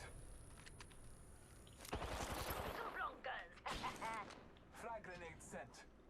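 Gunfire in the video game Apex Legends, sharp bursts of shots crackling amid the game's sound effects, with people talking over it.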